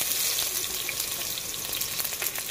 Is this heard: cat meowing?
no